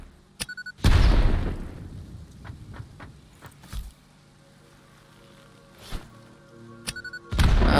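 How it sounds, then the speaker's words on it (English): Explosives go off in the factory-building video game Satisfactory: a loud, close boom rolls out and decays, then smaller thuds and crackles follow, and a second heavy blast hits near the end. "We're going to explode stuff."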